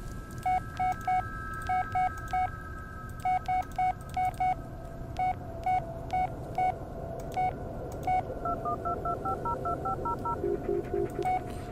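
Telephone keypad touch-tones sound in quick clusters of beeps as a number is dialed to check voicemail in the Blair Witch video game, with a steady background hum and no speech.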